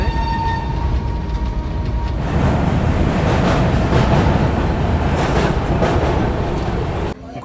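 A crowded general-class passenger train on its way to Prayagraj rumbles and rattles steadily, with a broad roar of wheels and carriage noise that holds for about five seconds before cutting off sharply near the end.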